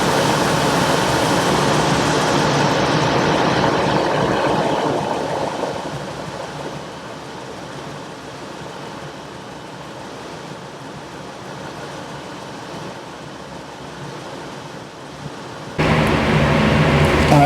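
A 5th-generation Toyota 4Runner engine idles steadily to warm up before an oil change, a low continuous rumble that fades slightly partway through, then jumps louder near the end.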